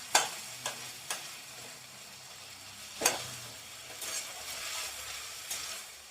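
Boiled tomatoes and boiled green chillies mashed in a pan for homestyle smoky chicken bharta, heard as a few sharp scraping and squelching hits and soft clatters over a faint background sizzle, close and moderately quiet.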